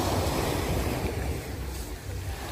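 Sea surf rushes steadily, a broad roaring wash of waves with some wind noise buffeting the microphone and no voices.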